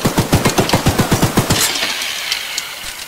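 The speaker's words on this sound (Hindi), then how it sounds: "ये तो वही के वाली मशीन गन है जो अनलिमिटेड चलेगी" A mounted machine gun on the train in Choo Choo Charles fires a loud, rapid, evenly spaced burst of about a dozen shots, then stops and the reverberation fades, with no talking.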